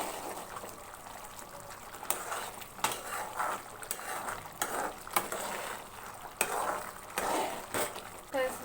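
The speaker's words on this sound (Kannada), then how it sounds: "ಇವಾಗ ಮತ್ತೆ ಎಲ್ಲ ಚೆನ್ನಾಗಿ ಮಿಕ್ಸ್ ಮಾಡ್ಕೊಂಡು ಫ್ರೆಂಡ್ಸ್, ಮತ್ತೆ ಒಂದು 2-3 ನಿಮಿಷಗಳ ಕಾಲ ಚೆನ್ನಾಗಿ ಕುದಿಸ್ಕೋಬೇಕು" Brinjal gojju gravy being stirred in a pan as it boils, with scraping spoon-on-metal strokes and clinks repeating at a steady pace over a constant sizzling bubble.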